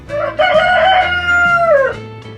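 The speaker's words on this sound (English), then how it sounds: "Chief, Chief, leave the chickens alone" A rooster crows once, loud and close, a long drawn-out cock-a-doodle-doo with a low hum of background noise beneath it.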